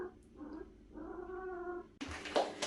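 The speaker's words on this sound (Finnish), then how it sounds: "Voisiko ton kiimaisen kissan lukita jo?" A cat in heat meows indoors in a home kitchen: a short call, then a longer drawn-out yowl, followed by a sudden burst of rustling clatter near the end.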